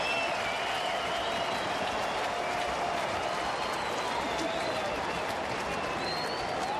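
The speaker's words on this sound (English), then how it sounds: "Crowd to their feet." Stadium crowd at a San Diego Padres at Cincinnati Reds baseball game rising to its feet, a steady roar of cheering and applause filling the whole stretch, with faint whistles above the dense wash of voices.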